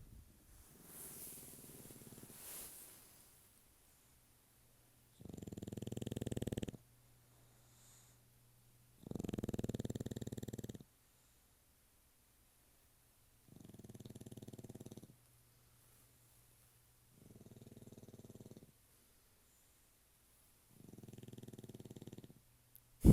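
A sleeping dog snores in slow, steady cycles, five long rasping breaths spaced a few seconds apart, fairly close and alone in a quiet room, with a faint steady hum underneath.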